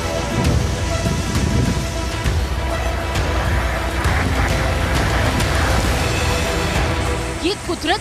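Heavy rain from Typhoon Muifa pours steadily, a dense hiss of drops on surfaces that stays loud throughout, with a low rumble underneath and a few brief higher sounds near the end.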